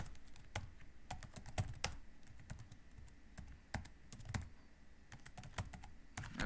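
Computer keyboard typed on close up, irregular bursts of sharp key clicks with short pauses between groups, crisp and fairly quiet, no speech.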